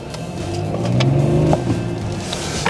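A BMW 750d diesel engine runs at a steady idle with a low, slightly rough hum and a rise in revs partway through. It is close and there is no talking.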